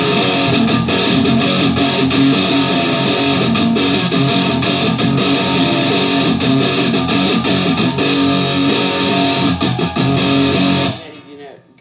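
Distorted electric guitar strums the chord pattern of a song in a driving down-down-down-up rhythm, loud and dense for about eleven seconds before cutting off abruptly.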